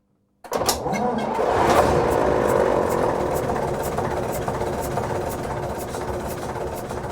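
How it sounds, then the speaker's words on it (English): One of the engines aboard the WWII motor launch HMS Medusa starts abruptly and settles into a steady, fairly quiet running hum with a continuous mechanical whir. "Could you start one of the engines?"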